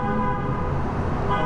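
A car horn sounds in one sustained, steady blare, fairly loud and close, over the hum of traffic.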